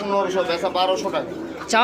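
Pigeons coo at a pigeon farm, mixed with someone talking nearby over the birds' soft, repeated calls.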